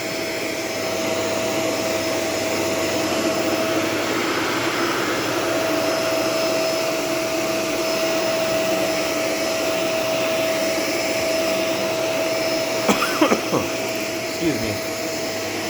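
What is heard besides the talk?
Shark Rotator Professional swivel vacuum cleaner running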